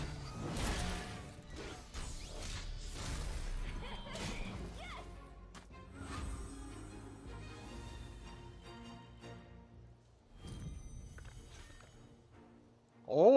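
Cannon fire in a turn-based fantasy battle game: a series of heavy crashing impacts and whooshes, loud and repeated, with game effects scattered around them and no talk.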